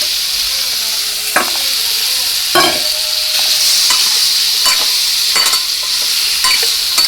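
Paneer pieces fry in butter seasoned with salt, turmeric and chili powder, giving a steady close sizzle with periodic clinks and scrapes of a spoon stirring against the pan.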